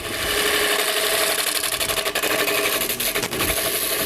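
A disc sander grinds the bevel of a woodturning tool, producing a continuous high-pitched whir and grinding rasp with slight pulsing as the steel edge is pressed against the spinning abrasive disc, loud and close.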